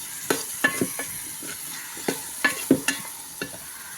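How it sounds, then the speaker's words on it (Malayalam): Curry in a cooking pot is stirred with a utensil, producing a string of distinct scraping knocks at an irregular, brisk rhythm over a faint sizzle. "നന്നായിട്ട് ഇളക്കി കൊടുക്കണം കേട്ടോ"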